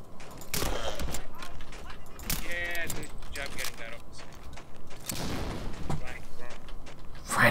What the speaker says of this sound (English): Grenade went off there as well.